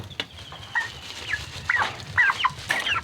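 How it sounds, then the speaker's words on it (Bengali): Village chickens clucking nearby in short, irregular bursts over a low background rumble, several calls overlapping across a few seconds. "কোন মুরগিটা সবচেয়ে বড়"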